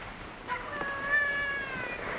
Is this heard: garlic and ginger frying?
no